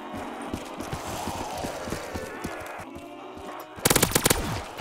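Rapid automatic gunfire from Call of Duty: Black Ops 3 Zombies crackles in dense, steady bursts throughout, ending in a louder, sharper volley of shots near the end.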